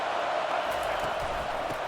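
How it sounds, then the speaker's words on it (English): Steady stadium crowd roar in an EA Sports College Football game, South Carolina against Alabama, filling the two seconds as a dense, continuous wash of distant voices without breaks. "This offense trying to quieten the crowd on 1st and goal, and they are not cooperating"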